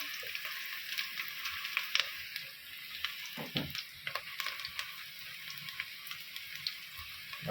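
Asafoetida (hing) dropped into hot oil for a tempering of soaked chickpeas, giving a steady, bright sizzle that runs throughout with small crackles and a brief clunk of a utensil midway.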